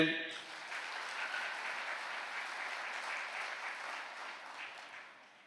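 A Catholic congregation claps together in sustained, dense applause that holds steady for several seconds, then fades out, heard at a moderate distance after a brief voice at the start.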